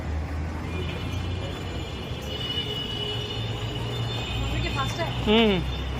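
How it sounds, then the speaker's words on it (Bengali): A Dhaka metro rail train at Pallabi rumbles along steadily, wheels squealing with a rising-falling screech near the end. "এই যে বাংলাদেশের মেট্রো রেলে পল্লবী আছে এখন"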